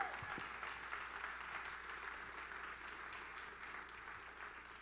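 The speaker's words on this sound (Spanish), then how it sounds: "Alguien que le dé un fuerte aplauso a Dios" A congregation at a church conference gives a sustained round of applause, a steady wash of many hands clapping that stays even and moderately distant throughout.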